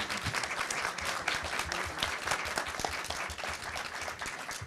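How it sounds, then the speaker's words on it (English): Sustained audience applause for a panel and its moderator at an evening talk on older workers, dense and steady throughout with no pauses, heard from within the crowd. "I'd like to ask you to applaud one more time for our panelists"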